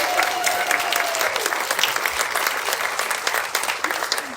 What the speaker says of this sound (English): Can we just get a round of applause for the arts?